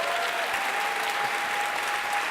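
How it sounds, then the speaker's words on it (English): A large live audience applauds a guest joining the stage at a strategy card game event in Europe, a steady, dense wash of clapping that holds at an even level throughout with no pauses. "can we have a big round of applause for Brian,"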